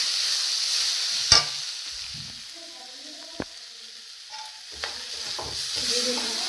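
Dal frying in a pan with salt, a steady soft sizzle running throughout, broken by a few sharp clinks and scrapes of a stirring spoon against the pan.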